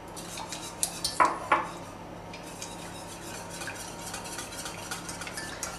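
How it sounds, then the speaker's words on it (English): Soufflé batter is mixed fast in a pan as utensils clink and scrape against the metal in quick knocks at first, then a softer continuous stirring rasp. "this is important that you mix very fast so that there's no clumps that are made"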